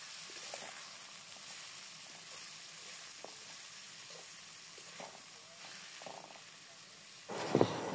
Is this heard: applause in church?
no